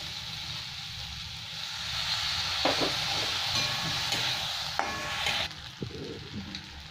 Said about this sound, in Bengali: অল্প একটু জল দিচ্ছি আমি।